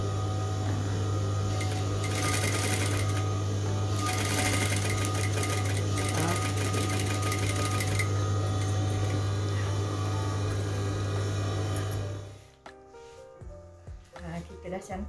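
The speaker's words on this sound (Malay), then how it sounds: "Okey, jahit sampai keliling ya." A sewing machine runs steadily while stitching the ruffle around a pillowcase, a continuous close whirring hum that stops abruptly near the end, leaving quiet room sound.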